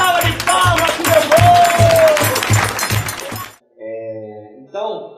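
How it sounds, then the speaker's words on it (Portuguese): Theatre audience applauding after a Brazilian folk Boi Bumbá stage show, dense clapping with cheers and a rhythmic low beat underneath for several seconds, then stopping abruptly before brief tonal voices. "Gente, uma salva de palmas pro meu"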